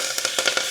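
Asafoetida and curry leaves hitting hot oil with mustard seeds and cumin, a steady close sizzle broken by quick spattering pops, with no talk.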